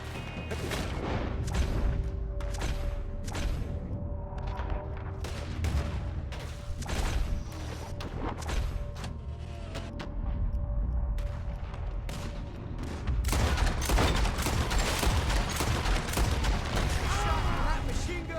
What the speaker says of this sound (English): That machine gun.